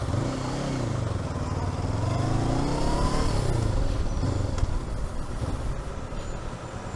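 A Honda NX500 motorcycle engine hums steadily while riding, with shifting pitch as revs change and wind noise underneath, continuous and fairly close.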